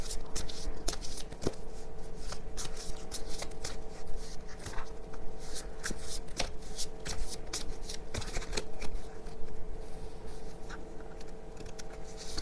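Tarot cards are shuffled continuously in a quiet room, a steady papery riffling and patter that stays close and even throughout, with faint low background hum and no talk.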